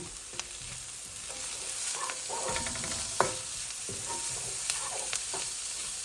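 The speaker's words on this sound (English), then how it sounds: "I'm going to add the ginger garlic and then cook for another minute or so" Ginger and garlic frying in a pot for a one-pot bean curry, a steady sizzle broken by the scrape and clink of a spoon stirring, close and quiet, no voices.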